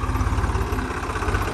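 A Swaraj 735 tractor engine idling up close, a steady low diesel throb with rapid even firing pulses and a constant rumble, heard alone without talk.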